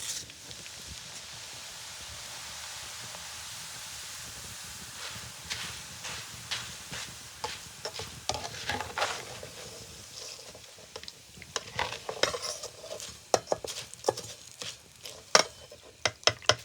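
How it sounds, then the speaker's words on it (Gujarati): Rice flakes (poha) fry in hot oil for chevdo, giving a continuous soft sizzle with increasingly frequent clicks and scraping stir sounds toward the end. No one speaks. "હવે આપણે તળી નાખી ચોખાના પૌવા"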